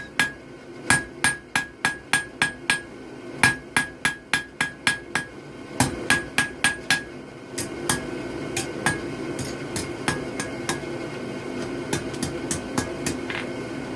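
A hammer forges thin steel for a leaf hook on an anvil, ringing metallic blows in quick steady runs, loud and close, with brief pauses between bursts and lighter ringing taps later.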